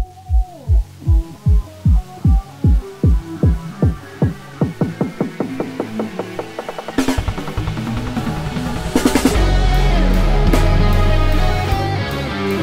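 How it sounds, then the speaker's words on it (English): A synth build-up begins with steady low thumping pulses that speed up, then a rising noisy sweep swells in loudness and brightness into a sustained roar. "Here is what a simple riser sounds like."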